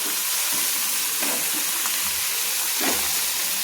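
Onions and chopped green chillies fry with cabbage and vegetables in a pan over medium flame for veg chowmein, a steady close sizzle with occasional stirring scrapes and no talk.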